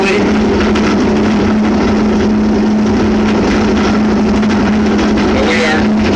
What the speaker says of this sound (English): Videotaping as we go up this elevator. It's quite noisy. It's very rattly.